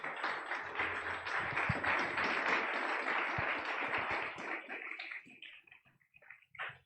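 A church congregation claps in dense, steady applause that gradually thins out into a few scattered claps near the end.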